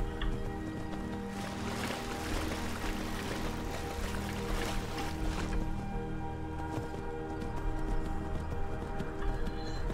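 A horse swims through water in the Skyrim video game, with steady splashing and sloshing and a continuous watery wash running throughout, backed by low ambient game music.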